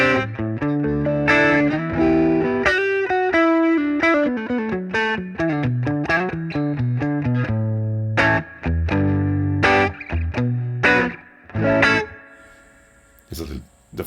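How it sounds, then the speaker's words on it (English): Guitar played through the Safari Pedals Twin Panda reverb and tremolo plugin, with choppy picked notes and chords in loud bursts carrying a reverb wash and pulsing flutter, alone without talk. "There's a little the flutter from the reverb."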